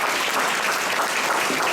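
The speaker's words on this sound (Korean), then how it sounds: "다 같이 박수 한번 다 같이 보내주겠습니다." A congregation claps together at a church summer camp closing service, a loud, dense, continuous wash of applause from many hands close by.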